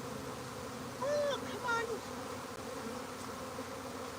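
Honey bees buzzing around a hive during a live swarm, a steady dense drone with a few brief higher whines from nearby bees and a short spoken exclamation.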